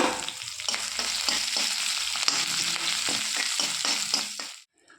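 Cut garlic and green chilli fry in hot oil with dried red chillies for a tomato chutney, a steady close sizzle with occasional stirring scrapes that cuts off near the end.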